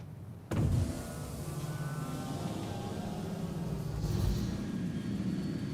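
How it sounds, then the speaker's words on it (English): A steady mechanical whir and hum of aircraft landing gear deploying starts abruptly with a thump and continues under a constant low cabin rumble, swelling slightly near the end. "Landing gear deployed."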